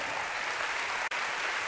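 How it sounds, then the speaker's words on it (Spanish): Church congregation breaking into applause during a sermon, a dense, sustained roar of many hands clapping, loud and even, cut by one brief dropout near the end. "claro que es para aplaudir."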